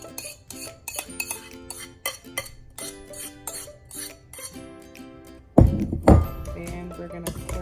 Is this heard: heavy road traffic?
no